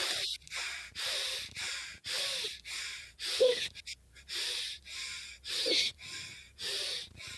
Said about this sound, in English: the advanced technique is where you do a bit more faster breathing beforehand